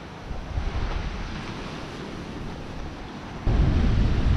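Wind sweeping across a Guadeloupe beach near Saint François, a continuous low buffeting roar against the microphone mixed with surf, growing noticeably louder in the last second.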